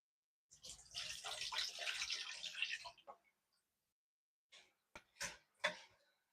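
Food being rinsed under a running tap, a steady broadband rush of water for about two and a half seconds, followed by a few short splashes and bursts of handling after a pause.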